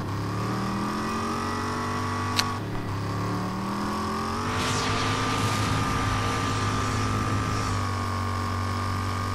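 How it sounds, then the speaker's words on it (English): Vehicle in RAGE drives along a highway with a steady, loud engine hum throughout, the pitch shifting slightly as it accelerates, with a sharp click early on. "Driving down the highway with machine guns on."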